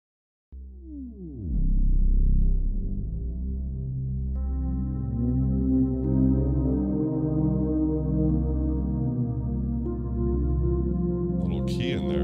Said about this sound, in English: A cinematic gliding bass texture.